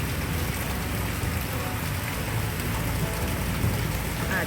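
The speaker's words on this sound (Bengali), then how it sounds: "আজকে প্রথম বৃষ্টি, সেই জন্য ভালো লাগছে" Light rain falling steadily outdoors near a Shiva shrine among trees, a soft continuous patter of drops on surfaces with no voices, even in loudness throughout.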